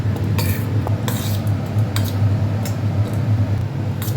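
A spoon scrapes and clinks against a bowl while dry dhokla ingredients are stirred together with baking powder, producing repeated close metallic taps and rubbing over a low steady hum.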